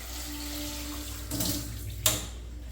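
Water splashes from a tap into a pan of chopped pineapple with salt for a Kerala pineapple pachadi, a soft running stream broken by two brief louder gushes near the end.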